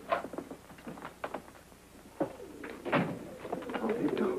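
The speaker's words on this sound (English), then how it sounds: "Sounds like pigeons." Soft cooing of a flock of carrier pigeons, several low calls repeating in short bursts close by, heard under people talking.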